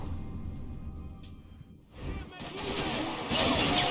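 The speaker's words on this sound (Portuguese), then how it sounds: "2 tiros" Gunfire sounds from the video game Max Payne 3, with a couple of sharp shots and crackling bursts under game noise. Speech is mixed in, and the action turns denser and louder toward the end.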